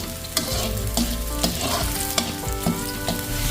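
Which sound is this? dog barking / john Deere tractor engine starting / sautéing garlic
sautéing garlic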